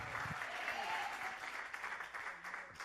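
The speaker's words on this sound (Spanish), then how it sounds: "¿Cuántos pueden aplaudir el nombre del Señor?" A church congregation applauds together in a steady wash of clapping that holds at an even level throughout, with no voices rising above it.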